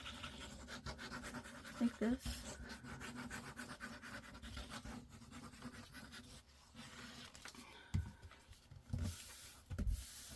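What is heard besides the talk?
paper being glued and rubbed together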